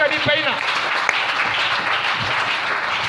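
A church congregation breaks into applause after a French sermon, a steady wash of clapping that fills the room, with a voice briefly audible at the start.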